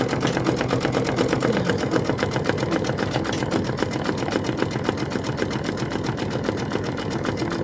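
A sewing machine stitches a quilted wall hanging at a steady rapid clatter, running with an uneven, rough mechanical grinding throughout. It is close and continuous, with no talking.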